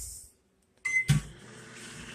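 A microwave oven being set to 4.5 for homemade fudge: a short electronic beep, a sharp click as it starts, then a steady low running hum.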